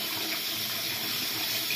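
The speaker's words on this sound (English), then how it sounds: "So I like to just like let my nails run under the water" Tap water runs steadily from a faucet into a sink as fingernails are rinsed under the stream, a constant close splashing hiss with no talking.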